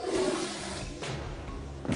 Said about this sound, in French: Electra, tire la chasse d'eau.